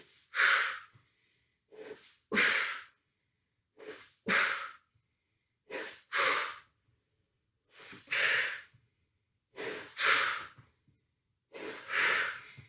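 Heavy, rhythmic breathing during a core workout: about eight strong, breathy exhales spaced a second or so apart, close and loud, with short silences between them and no talk.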